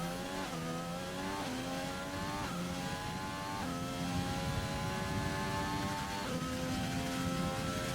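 Racing car engine from a racing video game, lapping the PXR S2 Tier 2 Italy round on a damp, drying track with short shifting, revving steadily through repeated upshifts and pitch rises across the lap, loud and continuous with no talk.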